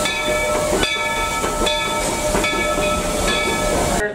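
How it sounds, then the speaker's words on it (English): A small theme park steam train at the Magic Kingdom chugs along with a constant hiss and low rumble, steady and fairly loud, with no voices. "I'm going to go and ride the train around the park for a little bit"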